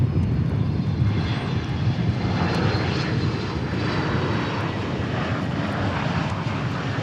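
Airbus A321neo jet passing at Dallas Fort Worth Airport, a loud steady broadband engine roar sustained throughout without talk.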